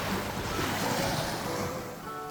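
Sea waves washing onto a beach, a steady, loud rush of surf close by with wind buffeting the microphone, continuous for the whole stretch.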